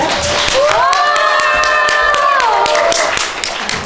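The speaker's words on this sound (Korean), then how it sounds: "입장하실 때 큰 박수로 맞이해 주시기 바랍니다" Audience clapping to welcome a musician guest onto the stage at a cinema library talk event, a loud burst of claps with a sustained musical tone running underneath.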